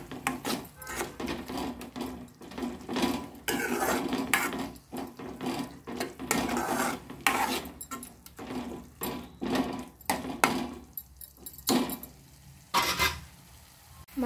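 A spoon scraping and stirring thick prawn curry masala in a pan as the oil separates, with irregular clinks and scrapes coming in bursts, close and fairly quiet, with short pauses between strokes.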